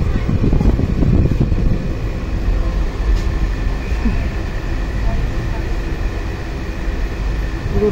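Steady, loud rumble and rattle of a passenger train running between stations near a depot, the carriage nearly empty, with a continuous low roar and faint clanks throughout.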